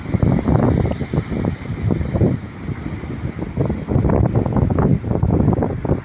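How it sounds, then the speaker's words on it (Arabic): Sea waves roll and crash onto a shore under steady, buffeting wind, a continuous loud wash of surf with repeated surges over several seconds. "خرير البحر كما يقولوا، خرير النهر، هذا خرير البحر."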